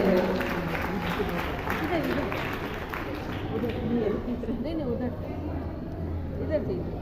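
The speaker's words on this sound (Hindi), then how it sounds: "उनका भी तालियों से स्वागत करेंगे।" Audience in a hall clapping steadily to welcome a guest at a festive parents' honouring event, sustained applause mixed with crowd chatter and a voice talking over it.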